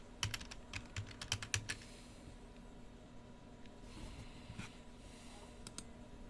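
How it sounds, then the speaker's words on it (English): Fingers tap on a computer keyboard in a quick burst of clicks, then a pause and a few scattered keystrokes, all fairly quiet and close, with no talking. "just type in Windows again"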